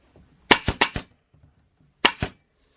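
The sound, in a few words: staple gun stapling a bamboo diffuser frame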